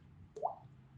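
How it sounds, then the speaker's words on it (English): A single small water drip lands with a soft plop against a quiet low hum, brief and close in a storybook scene about a swallow. "Another drip fell."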